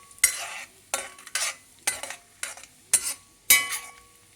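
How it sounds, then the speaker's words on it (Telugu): Grated pumpkin fries in a pan for pumpkin halwa and is stirred in about seven even, rhythmic scraping strokes over a soft sizzle, close and clear with no talking. "తర్వాత గుమ్మడికాయని వేయించుకోవాలన్నమాట"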